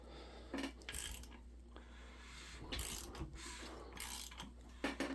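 B series engine being turned over counterclockwise by hand after reassembly, a few separate bursts of ratcheting metallic clicks with quiet gaps between them, close but fairly soft.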